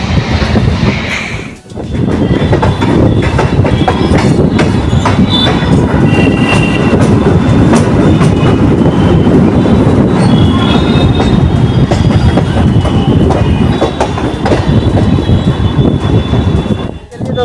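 The Kashi Express MEMU passenger train runs on rails with a loud, steady roar and rattle from inside the coach, with wheel noise and faint squeals throughout, briefly dipping near the start.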